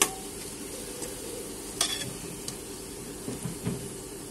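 Onions fry in a pan until light brown, giving a steady soft sizzle with occasional stirring scrapes and faint clinks, no talking.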